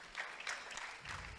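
Faint, brief applause from a gathering, a soft patter of clapping hands lasting about a second and a half.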